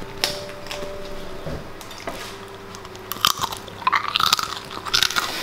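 Someone biting and chewing a slice of homemade pizza with a slightly crunchy crust, close and fairly loud, the crunches growing denser toward the end, with no talking.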